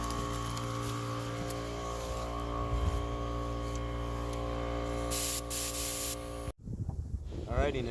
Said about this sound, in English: now that the compressor's full, we're gonna start blowing all this junk out of here